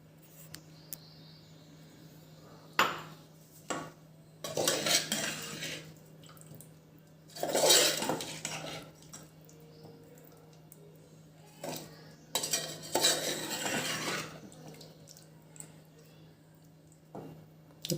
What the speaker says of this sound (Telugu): దీన్ని కూడా బాగా జాగ్రత్తగా కలుపుకుందాం